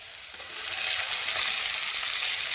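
Chopped tomato and coriander sautéing in a dal tempering over low heat, giving a steady bright sizzle that swells after a moment and holds evenly throughout.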